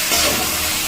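Tomatoes sautéing in a pan, a steady close sizzle with faint stirring over about a second.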